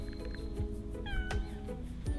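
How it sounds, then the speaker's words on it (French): Cats on Tashirojima cat island meow several times in quick succession, close and clear over a soft outdoor background. "Ça fait 37 chats qu'on a trouvé."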